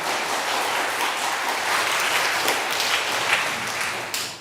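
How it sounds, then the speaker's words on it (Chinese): A church congregation at a Taiwanese-language worship service gives a pastor a warm, sustained round of applause, dense clapping from many hands filling the hall steadily before tapering at the end. "请咱用热烈掌声来欢迎伊"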